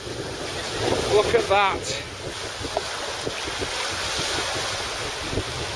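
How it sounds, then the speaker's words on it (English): Gale-force wind buffets the microphone at a lakeside pike-fishing spot, a loud, steady broadband roar with gusty swells throughout, while someone briefly speaks over it. "That is horrendous wind."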